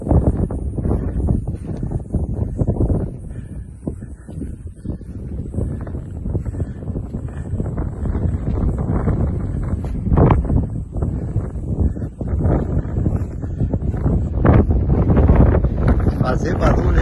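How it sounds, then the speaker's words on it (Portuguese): Strong wind buffets the microphone on a rural hilltop, a loud continuous low roar with gusts, while a person talks throughout. "Fazer barulho aí, pessoal, na gravação, é a ventania aqui no topo do morro."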